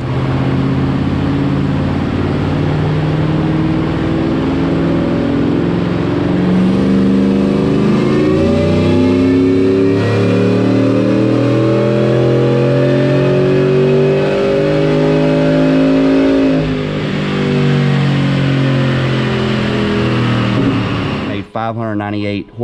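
A 2017 Ford F150 fitted with a Whipple Gen5 supercharger makes a loud, sustained pull on a dyno. The engine tone climbs steadily for many seconds, then drops off sharply near the end.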